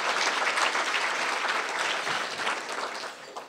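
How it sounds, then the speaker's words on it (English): An audience at a speech gives a dense, steady round of applause that holds at a strong level before easing slightly toward the end. "I think they deserve a round of applause for that."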